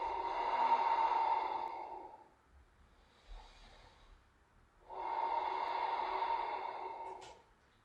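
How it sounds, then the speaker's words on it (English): Two long, deep Ujjayi yoga breaths, slow throaty hissing airflow, each lasting about two seconds with a quiet pause between, close and alone. "5 deep Ujjayi breaths here."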